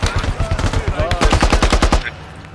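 Rapid automatic gunfire from a squad-based online shooter game rattles in loud bursts, dense back-to-back shots close up, stopping abruptly near the end; no talking.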